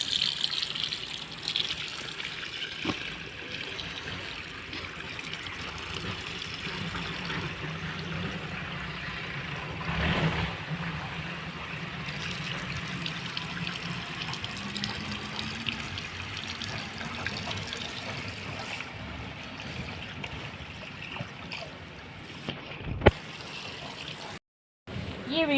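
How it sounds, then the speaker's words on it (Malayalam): Water is poured in a steady, continuous gush over runner plants during garden planting of tubers and runners, running nearly the whole time at an even level. "റണ്ണറിന് വെള്ളം ഇച്ചിരി കൂടുതൽ ഒഴിക്കണം."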